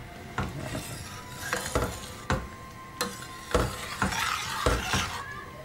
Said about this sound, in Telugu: ఇప్పుడు ఈ పాలతో మొత్తం ఒకసారి కలిపేసేసుకోండి